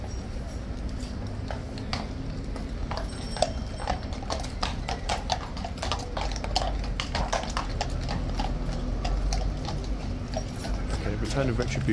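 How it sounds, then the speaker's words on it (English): Cavalry horses' hooves clip-clop steadily on hard ground at Horse Guards during a re-enactment, a continuous busy clatter of several animals close by, with people talking over the yard noise. "His horse Retribution will be here in front of us."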